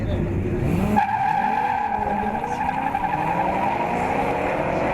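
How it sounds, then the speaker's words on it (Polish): V8 race car engines roar continuously while tires squeal through a drift, loud and close, with an announcer's voice faintly underneath; a V8-engined BMW E30 in a drifting competition final. "Ucieka Krystian Lech, BMW E30 z silnikiem V8, goni."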